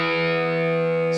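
An electric guitar played with the thumb through distortion rings out as one sustained, buzzing chord, held steadily and loud, playing part of a rock song.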